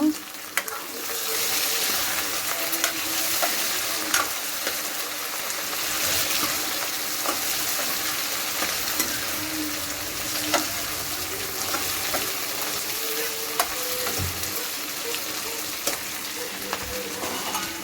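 Black pepper and coriander are stirred into a potato and onion curry in a hot pan, with a steady close sizzle and occasional scrapes and clinks of the spoon, no one talking.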